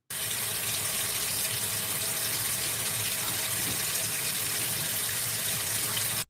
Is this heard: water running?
yes